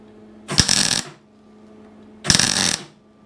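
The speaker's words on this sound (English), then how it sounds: "I'll just get one little tack on this." Two short, loud crackling bursts of tack welding on Royal Enfield bobber parts, each about half a second long, separated by a quiet pause in a workshop.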